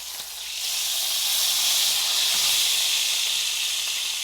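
A steak sizzles hard in a hot cast iron pan, a loud, steady, bright hiss of searing fat that swells slightly after the first half second and holds constant.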